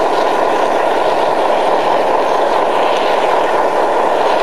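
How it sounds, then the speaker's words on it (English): A model train runs on an outdoor garden railroad, giving off a loud, steady whirring rumble that holds evenly throughout with no clear pauses, close by and without voices. "Catching up to John's train again."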